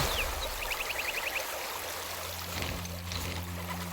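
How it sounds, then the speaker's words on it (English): A small Minecraft waterfall flows in a steady, soft rush behind a village build, with faint chirps and a low hum mixed in; no one speaks. "we went ahead and added a couple of new water sources. So we've added a water source in here, and that's going to have its own little waterfall"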